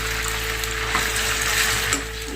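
Potatoes frying in hot oil, a dense continuous sizzle and crackle held at an even, close level throughout.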